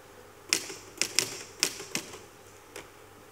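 A typewriter struck on a theatre stage during a play, about six sharp separate key clacks at an uneven, hesitant pace, fairly close, with a faint hall ambience and no talk over it.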